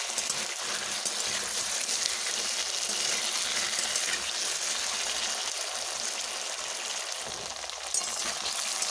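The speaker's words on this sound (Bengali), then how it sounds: "এবারে নুন হলুদ মিশিয়ে আমি এগুলোকে একটু বেশ ভালোভাবে ভেজে নেব।" Pieces of taro frying in hot oil with salt and turmeric, a loud, steady, close sizzle that carries on unbroken throughout.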